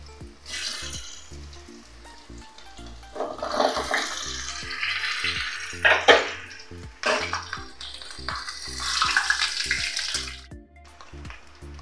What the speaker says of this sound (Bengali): আলু আমি এখন ভেজে তুলে নেব না, একবারেই আমি ভেজে মশলা দিয়ে দেব।